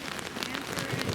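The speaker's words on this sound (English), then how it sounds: "yeah, it's raining" Rain patters steadily on the surfaces of a truck camp setup, a dense, close hiss of drops with no talking.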